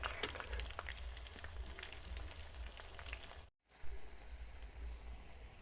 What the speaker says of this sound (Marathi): काही भेंड्या याच्यात तळत येतात